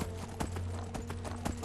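Hooves of a demon horse clip-clop in Skyrim, a faint irregular patter of soft thuds over a low steady game background hum, with no speech.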